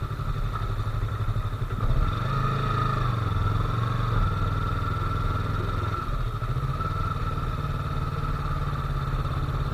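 Yamaha R3 parallel-twin motorcycle engine running in second gear with a steady, loud, throbbing drone that rises slightly early on and then holds, recorded close with no talk.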